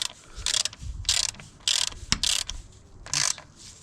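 Ratchet wrench snugging up a bolt on a motocross bike during an oil change, with four or five short bursts of close, crisp ratcheting clicks separated by brief pauses and a single sharp metallic tap in the middle.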